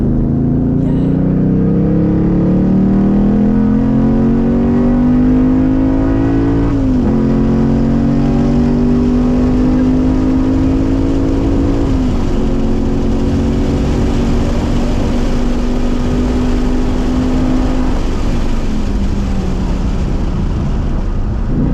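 A Ford Mustang Mach 1 roars at high speed around a race track's banked section near 125 mph, its loud, steady engine drone shifting pitch a few times across the run, with wind rush throughout.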